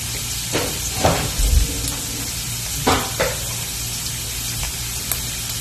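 Scotch bonnet, yellow and green onions and green pepper frying in a pan with a steady soft sizzle, broken by a few louder bursts and scrapes as the pan is stirred.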